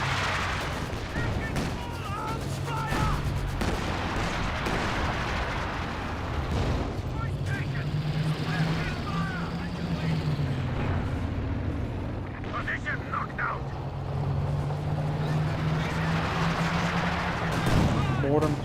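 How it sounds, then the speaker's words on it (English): Panzer artillery barrage in Company of Heroes 2 combat, with repeated booming shots and explosions rolling over a constant rumble of battle, loud and sustained, while someone commentates throughout. "got some sort of artillery being brought in. I think it's the Panzer artillery."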